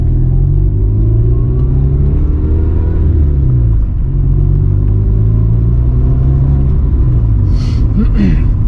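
A 1995 Honda Civic on its first drive after a suspension upgrade gives a steady, loud low engine and road rumble heard from inside the cabin, with a faint mechanical rattle near the end.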